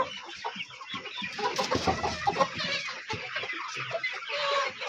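A flock of chickens on a poultry farm clucks densely and continuously at close range, with overlapping calls and a busier burst near the middle, and no voices.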